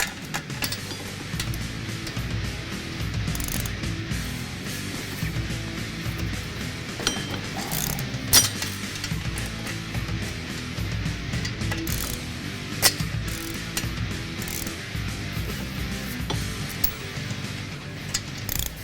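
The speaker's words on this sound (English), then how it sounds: "We have a bunch of wobble extensions right here to give us a nice arc to make removing the bolts on the turbos a little easier" A ratchet on wobble extensions clicks intermittently while loosening the downpipe-to-turbo nut on a 2011 F-150 3.5L EcoBoost, with faint metallic clinks and tool movement at low, close level.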